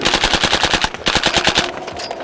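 An airsoft rifle fires full auto in a rapid, evenly spaced burst of about fifteen sharp cracks, loud and close, stopping abruptly near the end with no voices.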